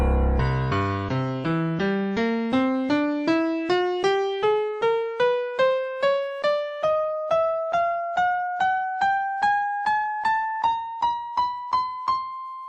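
Piano tuned to the natural harmonic sequence rather than modern tuning, playing a steady rising run of about thirty evenly spaced struck notes from deep bass up to the treble, each attack decaying before the next, with no talking.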